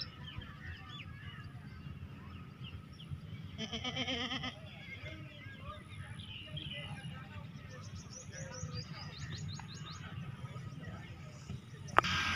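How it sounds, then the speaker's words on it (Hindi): A Nagra breed goat, offered for sale as a quality animal, gives a few short bleats over a noisy outdoor background of animals and chatter, with a sharp knock near the end. "माशाल्लाह जनाब प्योर माशाल्लाह नागरा बकरा जनाब आ गया क्वालिटी वाला जनाब जानवर"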